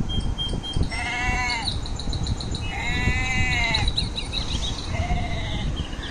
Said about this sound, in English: Let's listen to the goat sound again.